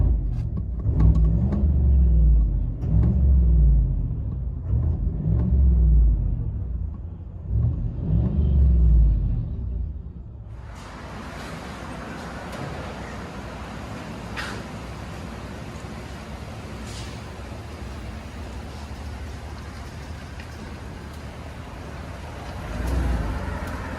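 Inside the cab of a lifted 2015 GMC Sierra with a 5.3L V8 and loud aftermarket exhaust: a deep, pulsing rumble of revs for about ten seconds, then a steady broadband drone of driving noise. No one talks.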